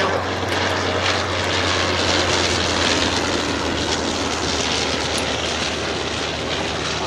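A Sopwith Camel biplane's engine drones steadily and loudly overhead at an airshow, a continuous buzzing roar with no pauses or voices.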